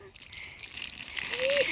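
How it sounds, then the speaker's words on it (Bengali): Water is poured over a child's head during a bath, splashing and gushing steadily up close while a voice talks nearby. "জল দিব, মাথায় দিব।"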